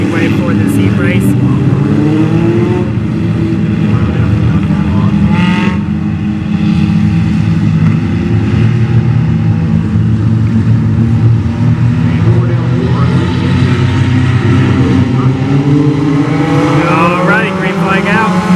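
Race cars at Brownstown Speedway circle a short-track heat race, engines roaring loudly and continuously as the pack passes near, with an announcer talking over the din throughout.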